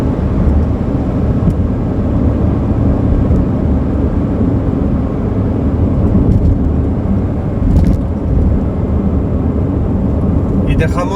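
A Chevrolet Matiz Spark coasts in fourth gear from about 90 km/h with the accelerator released. The engine gives a steady, loud, unbroken road-and-engine rumble while a person talks over it.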